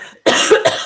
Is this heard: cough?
yes